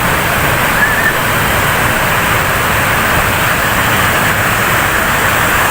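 Ocean surf at Bagasbas Beach in Bicol, a popular surfing spot, rolls in as a loud, unbroken broadband roar of breaking waves with no voices.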